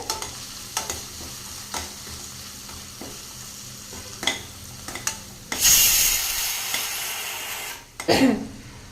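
Spiced masala frying in oil in a pan for eggplant curry, with a series of soft scraping stirs followed by a loud burst of sizzling and another quick stir near the end, no talking.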